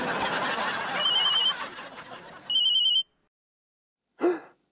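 A telephone rings twice with short electronic trilling bursts over background noise, then silence and a brief snicker-like sound.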